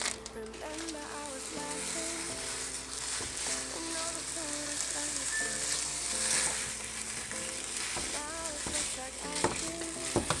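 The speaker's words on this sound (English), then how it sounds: "we're gonna brown our sausage" Sausage browns into crumbles in a pan for Zuppa Toscana, sizzling steadily while a utensil scrapes and taps, with faint speech-like sounds at moments.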